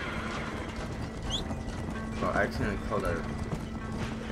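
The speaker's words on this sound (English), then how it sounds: "I accidentally called the horse." Horse in the Red Dead Redemption game whinnies and its hooves clip-clop as it trots up after being called, heard briefly over continuous talk and background game ambience.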